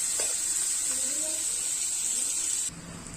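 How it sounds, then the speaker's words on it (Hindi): Onions frying in oil for a mutton curry, a steady bright hiss and sizzle close up that drops noticeably quieter just before the end. "इसे हल्का लाल होने तक तलना है, ज़्यादा नहीं तलना है।"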